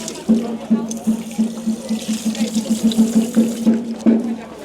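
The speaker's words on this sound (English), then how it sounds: "we have to wash our hands." Cold water runs from a tap or spout at a Japanese shrine purification basin as hands are washed, a steady close splashing stream with rhythmic pulses as the hands move through it.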